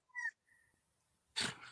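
A few distant, thin howls and yips from hunting dogs far off, separated by quiet gaps, followed by a short burst of breathy noise up close.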